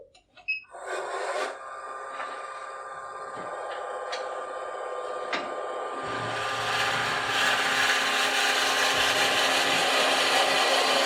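A power drill whirs steadily into wood while hollowing, its grinding tone building and growing louder and rougher halfway through as it bites deeper; no talking.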